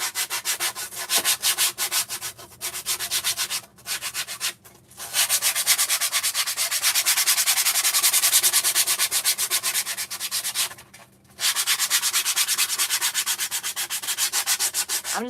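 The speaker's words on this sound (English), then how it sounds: "I'm just trying to scrape off as much of this as I can, or sand it." A wooden sign is sanded and scraped in long, loud, rhythmic rasping strokes, close by, with a few brief pauses between passes.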